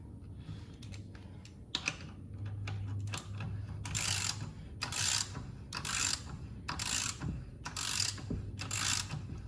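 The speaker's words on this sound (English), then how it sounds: "I'm just gonna use my wheel lock key since it's easier to do it that way." A wheel lock key turns lug nuts loose during a spare tire change, giving repeated bursts of close ratcheting clicks in regular spurts over a low hum.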